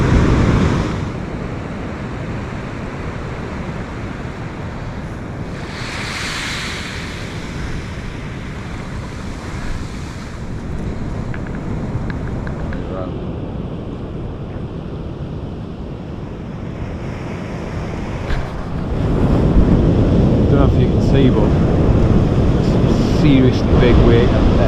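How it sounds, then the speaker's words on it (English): Large sea waves crash and roar steadily on the Holderness beach at Aldbrough, a broad continuous surf wash with wind buffeting the microphone, swelling louder near the end. "seriously big breakers, breaking a long way out there"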